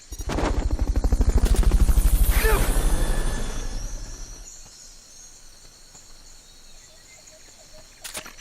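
A helicopter in the video game Metal Gear Solid Peace Walker gives a loud, close, thumping rotor pulse that swells and then fades into a quieter hum, with a brief sharp sound at the very end.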